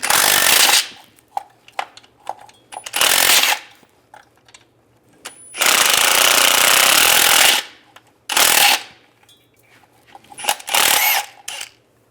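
An impact wrench or power ratchet with a 15mm socket backing out transmission mount bolts on a 2007-2013 Chevy Silverado, loud buzzing bursts of a second or two separated by pauses with quiet clicks.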